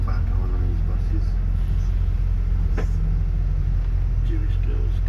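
The engine of a London bus in South Tottenham rumbles low and constantly while riding, with faint rattles and a brief hiss over the steady drone, and a voice speaking over it.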